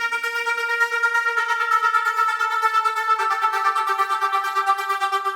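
A Serum synth lead built on the Pluxis preset plays a sustained, bright harmonic tone that changes pitch once partway through, carrying steady and alone with no voices.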